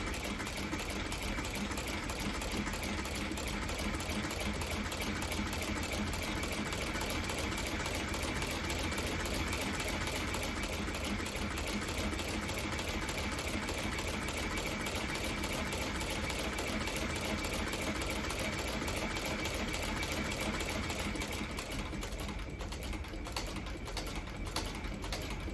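A sewing machine stitches a leather headstall crown strap, a steady fast mechanical whir with even needle clatter running continuously and close, with no talk.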